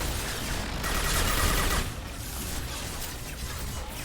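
Gunfire from the Mass Effect 2 video game, a dense burst of shots for about two seconds that eases into a quieter rattle and background combat noise.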